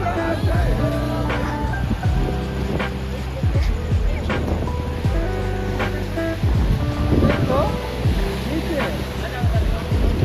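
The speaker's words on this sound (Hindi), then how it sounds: "अरे इधर देखो, देखो समुद्र।" Ocean waves wash steadily along the shore at Kanyakumari, near the Vivekananda Rock Memorial. The surf is a continuous broad roar mixed with gusty wind buffeting the microphone, with faint voices in the background.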